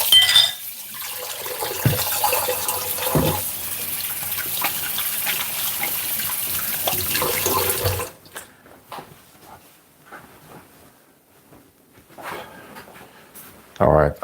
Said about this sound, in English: I'm gonna wash off these hands again.